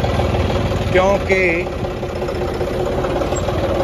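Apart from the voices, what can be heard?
tractor engine idling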